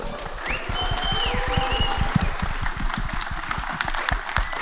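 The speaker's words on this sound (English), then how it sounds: "Please give them a big round of applause." Audience applause at a festival opening celebration: steady, dense clapping from a crowd, fairly close and sustained throughout, with a brief whistle rising above it.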